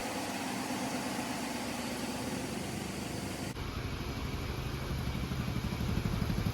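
A ship's main engine running in the engine room, a loud, continuous, dense mechanical roar with a steady pulsing throb, close and unchanging apart from a sudden shift in tone midway, with no talking.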